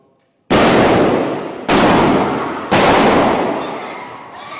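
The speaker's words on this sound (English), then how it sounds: "he shoots two people, and then another, an armed person within the church there, shot the guy" Gunshots play back from recorded footage of a shooting inside a church, three loud sharp blasts about a second apart, each decaying into a long reverberant tail after a short silence at the start.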